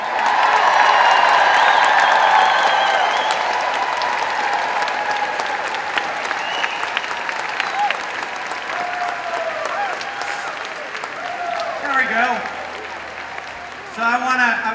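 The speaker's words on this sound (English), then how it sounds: "how about if we give a big, huge Richmond cheer for the America's Best Idea" Crowd at the Rosie the Riveter rally in Richmond applauds and cheers loudly at first, the clapping tapering off gradually into scattered claps and murmurs, with a voice speaking briefly near the end.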